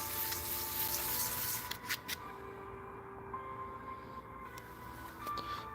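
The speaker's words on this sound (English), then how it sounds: "So we're just putting a polishing, kind of removing the imperfections from this little stainless steel key we've been building for this steamer trunk." A small stainless steel key for a steamer trunk is polished on a workbench, a steady, close abrasive rubbing hiss that runs continuously, with slight shifts in intensity throughout.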